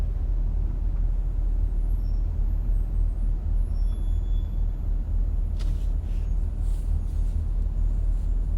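A bus and steady traffic on the LAX arrivals lower level, a constant low engine rumble and idling drone with a brief hiss partway through, close and continuous.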